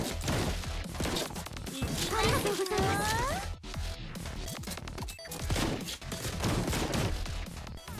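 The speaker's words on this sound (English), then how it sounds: "Water cannon, blammo." Water cannon attacks in the video game Blue Archive come as dense bursts of rapid blasts and crashes layered with game effects. A rising, whining tone cuts through midway, and a voice talks over parts of the action.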